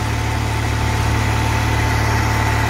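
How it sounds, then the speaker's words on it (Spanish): An auxiliary generator engine installed in a bus converted into a motorhome runs steadily nearby, a constant mechanical drone and vibration with no talking. "es el ruido del funcionamiento del motor"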